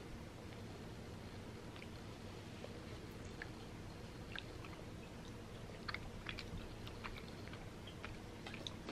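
Someone chews freeze-dried candy, giving faint crunchy bites and crackles that come in irregular bursts over a steady low background hum, with no talking.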